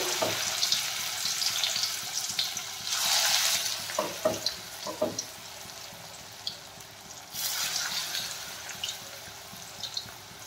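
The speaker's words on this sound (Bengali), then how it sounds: "তেল ভালোভাবে গরম হয়ে গেছে। এখন আমি বড়াগুলো দিয়ে দিলাম।" Fritters of bitter dimi greens frying in hot oil in a pan, a soft continuous sizzle with a few louder crackling bursts and light clinks, heard alone without talk.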